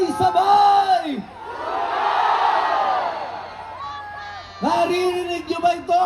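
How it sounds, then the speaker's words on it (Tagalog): A large rally crowd in Liwasang Bonifacio shouts together in a swelling roar, framed before and after by a loud amplified voice speaking over it. "ang liwasang Bonifacio sumisigaw sabay-sabay!"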